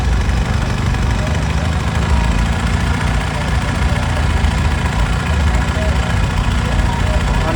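Tractor engines idle nearby during a Sikh religious procession, in a loud, unbroken low rumble with a constant chugging vibration throughout.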